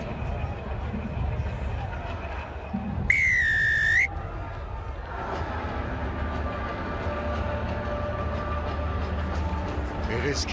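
A referee's whistle at a men's rugby sevens match between Kenya and Spain in Edmonton, 2021, sounds one sustained blast of about a second over steady crowd noise, with voices talking throughout.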